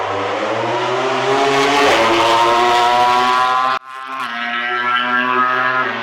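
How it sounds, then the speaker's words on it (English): High-pitched MotoGP motorcycle engines scream past at speed on track during the Sepang test, loud and close, with one fading abruptly before another rises in, no voices present. "It's great to hear the bikes going by"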